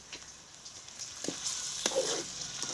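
Meat goes into masala frying in a pan, giving a soft, steady sizzle with a few brief clatters of a spoon against the metal, close by and with no talking.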